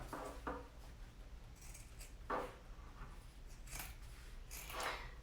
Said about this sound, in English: I'm just going to cut off just a little bit off of both legs.